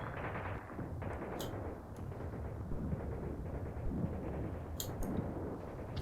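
Gunfire echoing up from a valley in Tank Warfare: Tunisia 1943, distant rumbling shots and bursts under wind noise, with a few sharp cracks standing out near the middle and end.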